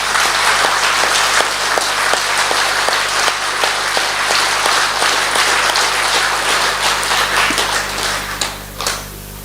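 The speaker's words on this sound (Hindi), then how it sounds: "एक बार जोर से तालियां बजाएंगे" Loud audience clapping in a Brahma Kumaris class hall, dense and sustained for several seconds, then thinning into a few scattered final claps near the end.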